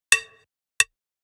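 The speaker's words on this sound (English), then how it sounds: "We've got another cowbell here." Two processed cowbell hits in a chillhop beat: a bright metallic clang with a short ringing tail, then a second, drier and clipped strike after a brief pause, each standing alone and close.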